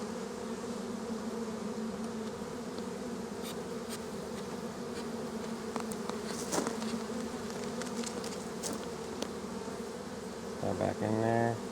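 Honeybee colony in an open hive, a dense steady buzzing that fills the whole stretch close by, with a louder burst of wing noise near the end.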